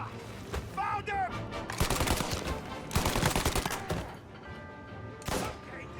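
Gunfire in the video game Mafia: Definitive Edition: several loud bursts of rapid shots spread over a few seconds, separated by short gaps, with softer game sounds between them.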